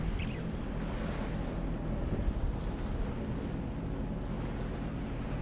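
Wind and ocean surf roll steadily around a boat heading out to sea off Florida, a constant broad wash with wind buffeting the microphone and no voices.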